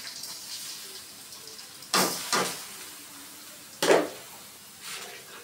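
Rice tossed and stirred in a hot pan with fried onion and whole garam masala for white pulao, a low steady sizzle broken by a few loud scraping stirs near the end, no talking.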